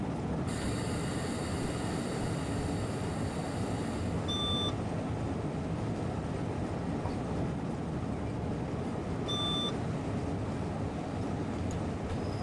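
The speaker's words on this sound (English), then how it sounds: "I'll have to find out what these little beeps are" Warning beeps in a train cab in a railway simulator game on the Albula Line, short high electronic tones sounding twice a few seconds apart over a steady rumble of the moving train, with no talk.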